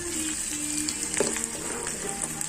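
Cooking oil sizzles steadily in a pan while frying for spicy Korean noodles, with a constant hiss and a few soft stirring clinks, close and moderately loud, with no talking.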